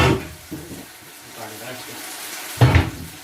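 Cooked noodles are poured into a small colander for a stir fry. A loud wet splash of draining water opens, a quieter trickle follows, then another strong gush comes near the end.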